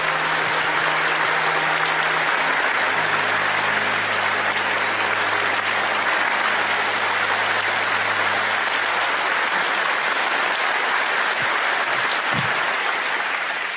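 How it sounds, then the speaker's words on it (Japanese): A large crowd at a political rally breaks into sustained, loud, dense applause that continues evenly for well over ten seconds, with no talking. "改めて皆さんご自身に盛大な拍手をお願いします。"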